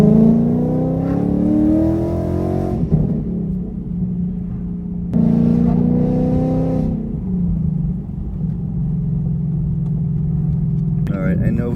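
Tuned Ford Mustang GT with an FBO setup making around 500 wheel horsepower, its V8 rising hard through the revs, dropping at a shift and climbing again in a second loud pull, with a voice talking under the engine.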